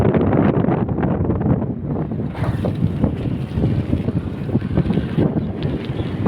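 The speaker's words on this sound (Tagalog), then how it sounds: "Hindi siya mainit Gar. Malamig. Mahangin eh" Strong wind buffets the microphone in a constant, roaring rumble, gusting unevenly throughout.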